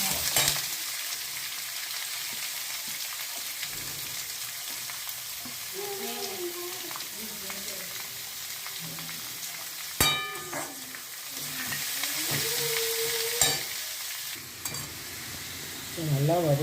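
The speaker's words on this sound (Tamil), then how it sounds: "அதுக்கப்புறம் வெங்காயமும் கருவேப்பிலையும் சேர்த்து ஒன்றா போட்டுவிடுங்க" Onion and curry leaves sizzle steadily in hot oil with red chillies, a continuous frying hiss with occasional stirring scrapes and a few brief sharp clinks, under faint background music.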